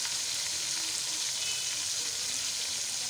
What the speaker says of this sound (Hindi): अब इसे भूनते हैं अच्छी तरह